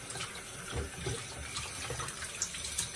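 A tap runs steadily into a sink while a shaving brush is rinsed of shave soap, close and moderately loud, with slight splashing changes as the brush moves under the stream.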